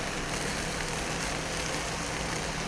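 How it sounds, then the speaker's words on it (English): Hamburgers sizzling on a hot, oiled Blackstone griddle, a steady, dense crackling hiss that continues evenly throughout without pause or talk. "Hot enough to make them sizzle."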